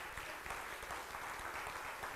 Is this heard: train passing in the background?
no